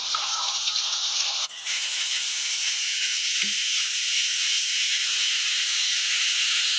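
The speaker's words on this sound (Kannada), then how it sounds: "ಒಂದು ಚಮಚ ಶುಂಠಿ ಬೆಳ್ಳುಳ್ಳಿ ಪೇಸ್ಟನ್ನು ಹಾಕಿ ಫ್ರೈ ಮಾಡ್ಕೊಳ್ತೀನಿ" Ginger garlic paste fries with onions for a green masala mackerel curry, making a loud, continuous hiss that stays steady, with one brief dull knock partway through.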